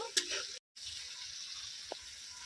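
Tomato paste and spices frying in oil for a rohu fish curry, a soft steady sizzle with a brief dropout and a light clink, fairly quiet.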